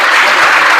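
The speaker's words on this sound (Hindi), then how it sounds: "जिसमें ताली बजाओ" Audience applause at an academy gathering in Bihar honouring a top-ranking student: a dense, loud burst of many hands clapping together, filling the whole short moment with no voices.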